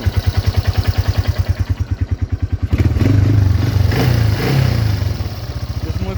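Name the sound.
1988 Yamaha Moto 4 225 ATV engine running after carburetor rebuild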